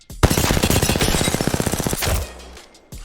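A CAR submachine gun fires in Apex Legends as one rapid automatic burst of about twenty distinct, evenly spaced shots lasting nearly two seconds. Its crack rings out loud and close, with a short tail after it and a faint thump near the end.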